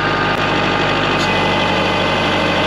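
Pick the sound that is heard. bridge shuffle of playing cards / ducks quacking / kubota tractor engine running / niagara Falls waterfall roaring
kubota tractor engine running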